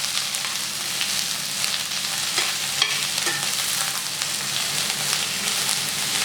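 Sliced onions frying in oil for a prawn fry, giving a dense, even sizzle that holds steady throughout, with faint occasional stirring taps and nobody talking.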